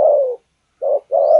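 A caged spotted dove kept as a breeding decoy bird coos in three close, loud, drawn-out notes, the first long and the last two shorter in quick succession, with no talking.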